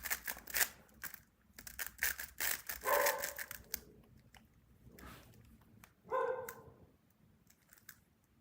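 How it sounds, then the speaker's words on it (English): Dogs barking in short bursts at moderate distance, a few separate barks spread across the stretch with quieter gaps between them. "Yeah, the dogs. They like barking at stuff."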